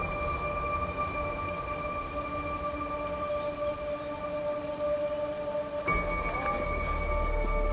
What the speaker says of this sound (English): We had a bit of rain, it's okay, we'll cope with that.